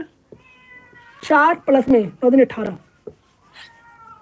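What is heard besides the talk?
cat meowing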